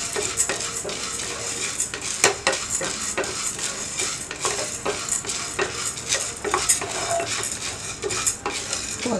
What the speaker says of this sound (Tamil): இப்போ நல்லா வந்து கலர் மாறுற வரைக்கும் வறுத்துக்கலாம்